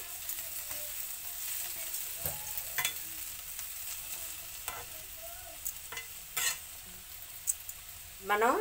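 Ivy gourd pieces fry in a pan with a steady low sizzle, broken by repeated scrapes and knocks of a spoon stirring against the metal, close by and with no one speaking.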